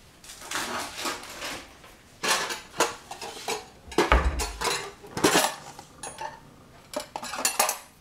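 A long spoon clinks and scrapes against a metal pot while stirring white Ayurvedic chai, in irregular bursts of clattering strokes with brief pauses between them, fairly close and clear, with no talking.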